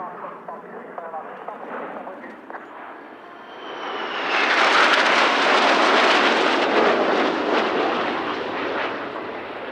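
An F-5 jet at an air show passes overhead, its engine roar swelling to a loud, broad rush midway and holding steady. Commentary is heard over the first part.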